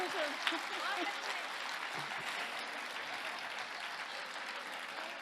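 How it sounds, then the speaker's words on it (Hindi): Loud, sustained audience applause at a Hindi comedy show, a dense wash of clapping that holds steady throughout, with a few brief vocal sounds early on. "अब तक की सबसे जोरदार तालियां आई हैं"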